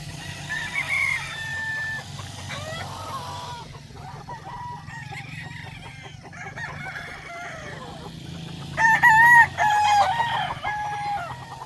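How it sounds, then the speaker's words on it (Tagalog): Local stags, young roosters, crow and cluck in a farmyard, with several strained crows and scattered clucks overlapping, one louder crow close by near the end over steady background noise. "Na ipakita ko po sa inyo yung mga local na mga stag po natin."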